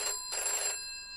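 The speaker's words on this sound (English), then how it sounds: "Oh, what's that? A phone call?" A telephone rings in a farm video game set in the 1990s, two clear electronic ring bursts close up and alone, with no talking.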